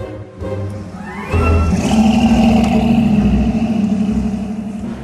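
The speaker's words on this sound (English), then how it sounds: "with this car getting into the venue" A car pulls up to a wedding venue, its engine rumbling steadily and loud, rising in a rev partway through, with a low steady drone continuing to the end and no talk.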